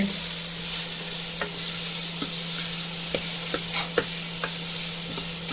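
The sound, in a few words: stirring wild mushroom curry in a pan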